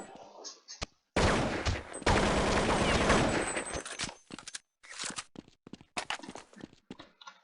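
Bursts of rapid gunfire from Counter-Strike 1.6 in a jailbreak server, a dense fusillade followed by scattered single shots and footsteps, loud and close, with no talking.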